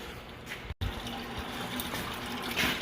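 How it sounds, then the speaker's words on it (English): Engine oil pours from an opened drain valve into a bucket in a shop, a steady liquid gush with a brief cut near the start. "We reach down in there and turn our valve. And look at that, the oil comes pouring out."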